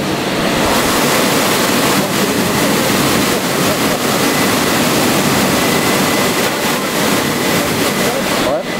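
A loud, steady roar of powerful car wash turbine blowers fills the space, broadband and unbroken like a jet engine, with faint voices buried beneath it.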